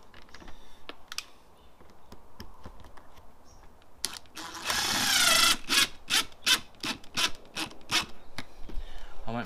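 Screws, 8 gauge by 30 mm, being driven one after another to fit a replacement caravan shower vent, giving a run of close, sharp scraping and rasping bursts with a louder grinding stretch midway, and no talk.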